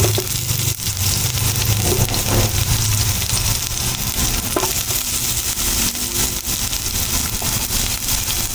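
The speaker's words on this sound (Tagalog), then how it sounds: "Lagyan na natin itong ating bawang. At saka ating sibuyas." Garlic and onion sizzle and fry steadily in a hot pan for mussels, a loud continuous crackling hiss with occasional stirring scrapes and no talk.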